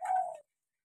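A single short dove or pigeon coo, soft and close, ending abruptly and followed by silence.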